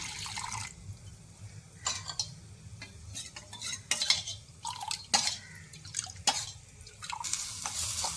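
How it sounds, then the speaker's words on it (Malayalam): More water goes into a cornflour slurry in a bowl while it is mixed for a drumstick-leaf soup: soft liquid splashes and drips, broken by close scraping stirs and light clinks of a spoon. "കുറേ വെള്ളം കൂടി ചേർത്ത് കൊടുക്കാം."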